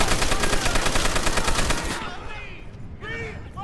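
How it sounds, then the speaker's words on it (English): M1919 machine gun firing in the World War II shooter Call of Duty: World at War, a rapid, steady stream of loud automatic shots for about two seconds, then quieter battlefield sounds with scattered distant noises. "With our M1919 machine gun, we mow through batches of enemies as they come screaming out at us"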